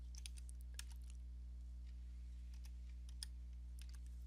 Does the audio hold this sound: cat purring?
no